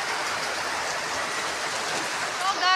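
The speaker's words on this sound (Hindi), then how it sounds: "बहुत जोर से बारिश गिर रही है" Heavy rain pours down steadily as a dense, loud broadband wash, with a brief louder swell near the end.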